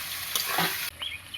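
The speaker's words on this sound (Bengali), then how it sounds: "সর্ষে বাটা আদা বাটা দিয়ে আমি কষিয়ে নিয়েছি" Fish cooking in a pan with mustard paste and ginger paste, a brief sizzle with a few stirring scrapes that cuts out partway, then faint pan noise.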